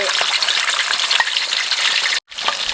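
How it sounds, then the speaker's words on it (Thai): Loud, close sizzling and crackling of whole Nile tilapia frying in hot oil over medium heat, a dense hiss that cuts out briefly near the end before resuming. "น้ำมันร้อนแล้วก็ใส่ปลาทอดเลยแบบนี้"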